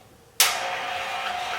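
A stand mixer driving a coconut scraper attachment as it grates coconut, starting abruptly and then holding a steady close whirring, scraping drone with no talking.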